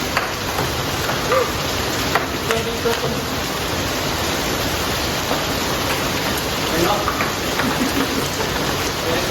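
Heavy rain falls steadily, a dense, even hiss of drops on surfaces that continues unbroken and fairly loud from start to finish, with faint occasional tones beneath.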